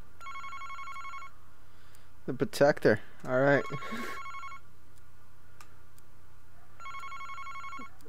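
An electronic telephone rings in the Famicom Detective Club video game, a repeating two-part ring that sounds at the start and again near the end, with someone speaking briefly in between.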